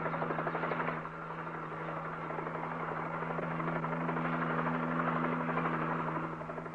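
Steady, droning helicopter rotor and engine noise runs throughout with a constant hum, loud and unbroken, no voices.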